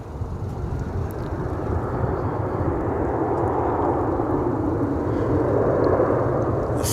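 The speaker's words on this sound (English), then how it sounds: "The flight you just saw there is American 1961 and Airbus A321 off to San Antonio, Texas" An American Airlines Airbus A321 departing DFW International Airport rumbles with a deep, steady jet roar that swells slightly and stays strong throughout, with no voices over it.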